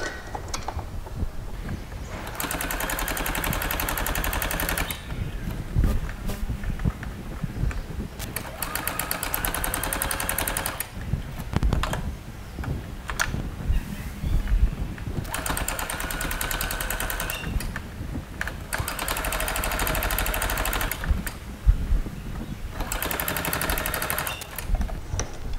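A sewing machine runs in long bursts of rapid, steady stitching along a shorts waistband seam, loud and close, with brief pauses between runs and no talking.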